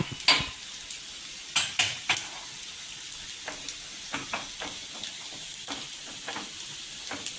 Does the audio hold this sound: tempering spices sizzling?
yes